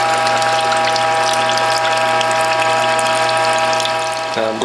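A Whole Health Foundation premium model juicer grinds citrus pulp with a loud, steady mechanical whine and ratcheting hum that runs unbroken, then shifts in pitch just before the end.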